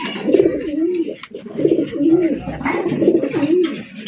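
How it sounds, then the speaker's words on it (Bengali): Domestic desi pigeons, including a pair of Giachuli pigeons, coo at a village pigeon farm: close, repeated throaty rolling coos in a steady rhythm with no talk. "এক জোড়া গিয়াচুলি কবুতর দেখছেন"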